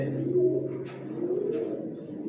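Racing pigeons coo in a loft, low soft rolling coos repeating steadily and close, with faint rustling behind.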